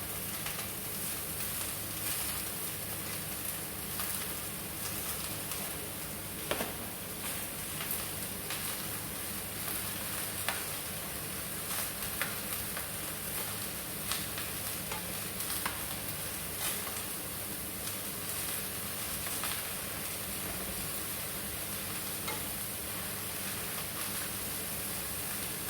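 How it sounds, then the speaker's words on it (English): Cabbage sautéing in a pan, a faint, steady sizzle and crackle that continues evenly throughout with occasional small pops. "I know you hear that sizzling coming from the pan."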